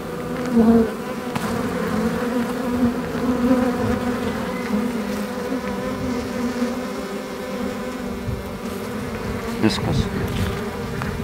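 Honeybees drone inside a hive holding their queen, a dense, loud and unbroken buzz heard up close, with a couple of brief knocks and no talking.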